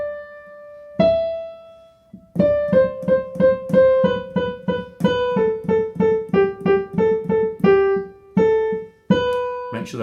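Piano playing a simple line from Mozart's Eine Kleine Nachtmusik, clear single notes in a steady rhythm with a few held tones, close and alone.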